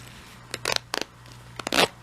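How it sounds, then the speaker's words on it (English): The small zipper on a handmade Tokyo Ghoul Kaneki cosplay mask is opened in a few short, close rasping pulls separated by quiet pauses. "So we have a working openable zipper here."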